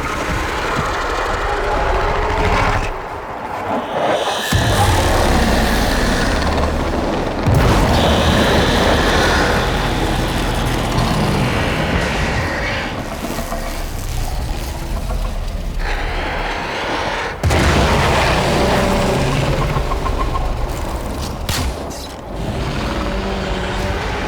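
A loud explosion in the Warframe game, followed by heavy rumbling and clattering as debris falls, with sharp blasts standing out from a continuous dense roar.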